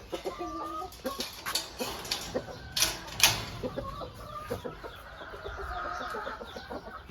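On a farm with breeding roosters, hens and chicks in a coop, chickens cluck in short, irregular bursts close by, with a few sharper, louder calls and a low background hum.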